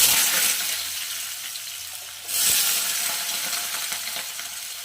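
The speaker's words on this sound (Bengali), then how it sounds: "আলুটা প্রথমে কড়াই তেল দিয়ে দিয়েছি" Potato pieces frying in oil in a wok, a loud continuous sizzle that briefly eases then surges back up again, with no talking.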